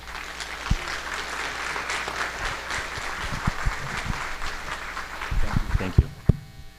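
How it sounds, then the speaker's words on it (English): An audience at a Family Day event applauds a university president taking the stage, a moderate spread of clapping with a few sharper, nearby claps toward the end over a low background hum. "Please give him a round of applause."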